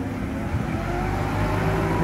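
A 2017 Mazda BT50 with the P580 3.2 litre five-cylinder turbo diesel runs steadily close by, a low, even engine drone without gaps or clear revs.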